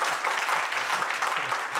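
A crowd at a comic poetry gathering claps steadily, a dense, continuous burst of applause with no voices over it.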